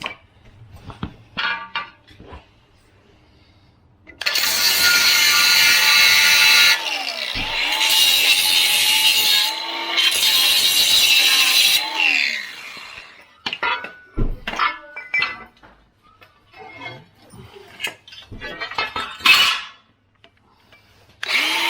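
A power tool cuts through a metal bumper piece on a bumper build, grinding loudly and harshly in three long bursts, followed by quieter clanks and handling noises.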